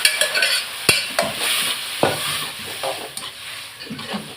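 Ivy gourd (kovakkai) fry with chilli powder, curry leaves and garlic stirred in a pan, a steady sizzle broken by repeated sharp scrapes and clinks of the spoon against the metal.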